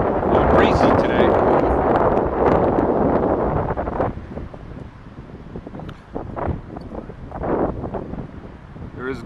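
Breezy wind buffets the microphone at a pine-forest reservoir lake of about 40 acres south of Prescott, a loud rumbling gust for the first four seconds easing into softer, uneven puffs with some voice-like sounds mixed in.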